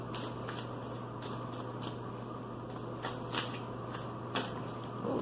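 Tarot cards being shuffled by hand for a reading: a steady stream of soft papery riffles and slides with a few sharper flicks, close and fairly quiet, with no talking.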